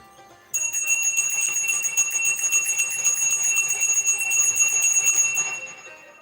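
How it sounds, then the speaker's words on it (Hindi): A small hand bell rings rapidly and continuously for about six seconds after a quiet start, bright metallic tones sustained and loud, with no talking over it. "घंटी की आवाज है ना।"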